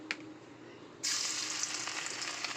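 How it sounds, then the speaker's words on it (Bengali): Chopped garlic and green chillies hit hot oil with a sudden loud sizzle after a second of near-quiet, then keep frying steadily and close up with faint stirring. "দেখো কুচিয়ে নিয়েছি রসুন ও কাঁচা লঙ্কা, এইগুলোকে এবার আমি তেলের মধ্যে দিয়ে দেবো"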